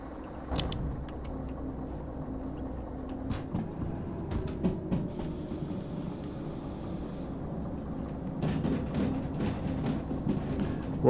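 A train moving in the video game Derail Valley gives a continuous low mechanical rumble with scattered clicks and clunks. It grows louder toward the end.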